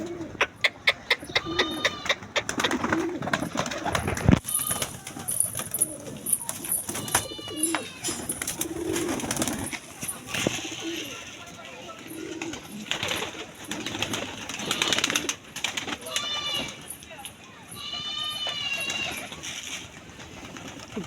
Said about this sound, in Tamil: புறாக்கள் வந்து இறை சாப்பிடுது.